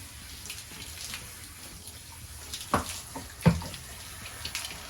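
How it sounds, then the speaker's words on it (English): Water runs steadily from a tap for rinsing while a horse is readied for a show, with a soft continuous flow broken by a few splashes and knocks. "And then rinse it all out properly."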